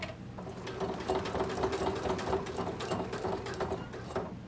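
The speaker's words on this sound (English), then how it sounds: "I'm going to go back over that last line of straight stitching on the short side." A sewing machine stitches bias tape onto a quilted vest armhole, a close, steady rapid chattering hum of needle strokes running continuously without speech.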